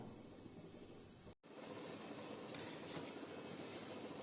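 A mixer grinder motor roars in a steady, dense whir while blending cream with water to make butter at home, cutting out for an instant before starting up again and running on.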